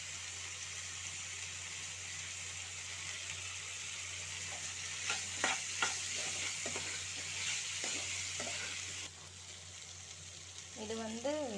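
Boiled white chickpeas with curry masala are stirred in a pan over a steady oil sizzle, with rhythmic spoon scrapes in the middle. A voice briefly speaks near the end.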